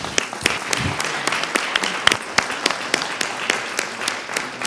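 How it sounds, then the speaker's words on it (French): Audience applause at an ecological solutions conference on nature in the city: a hall full of people clapping steadily, sharp individual claps standing out for several seconds, with a brief voice at the start. "Vous pouvez les applaudir."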